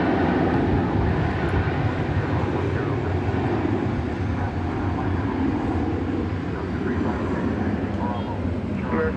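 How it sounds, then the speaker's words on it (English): An airliner takes off from a runway at DFW Airport bound for Denver, a steady broadband engine roar sustained throughout at fairly constant loudness, with faint voices mixed in. "Let us track this for you as it heads off to Denver. On Runway DFW, it's our first takeoff of the evening"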